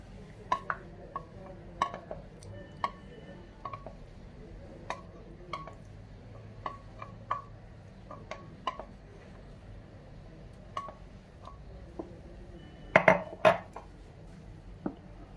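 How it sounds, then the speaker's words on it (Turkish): Whipped cream is folded into homemade ice cream base with a utensil in a bowl, giving soft, repeated scraping clinks and taps against the dish at an irregular rhythm, with a brief louder clatter of spoon on bowl near the end. "Şimdi çırpmış olduğum kremayı dondurmamın içine ekliyorum."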